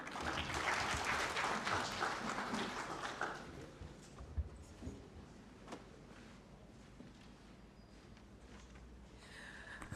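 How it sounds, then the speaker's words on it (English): Audience applause closing a workshop on a national service delivery survey report, a dense wash of clapping loudest over the first three seconds and then thinning into scattered claps and room noise. "A bigger round of applause for Mr. Pius Bigirimana"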